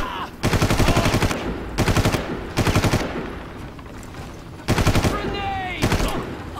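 Rapid automatic gunfire aimed at the player in Far Cry, loud bursts of machine-gun fire in several separate volleys with brief gaps, close and dominant, with faint background game sound between.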